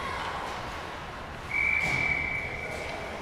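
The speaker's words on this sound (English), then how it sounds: "So the official blew the whistle." A referee's whistle at an ice hockey game gives one clear, sustained shrill blast of about a second over the quiet hum of the rink.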